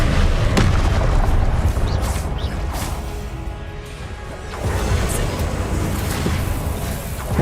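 Repeated Confringo spell blasts in the Hogwarts Legacy video game, with heavy booming impacts and crashing bursts over a dense, continuous battle rumble.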